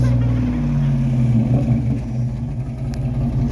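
A diesel SEMA show truck rumbles deep and loud close by, its engine revving in a steady, throaty drone with slight swells and no voices over it.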